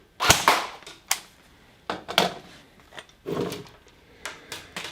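An airsoft M4 MidCap magazine drops free from the mag well, giving a series of sharp, close plastic clacks and knocks spaced irregularly over a few seconds with no voice.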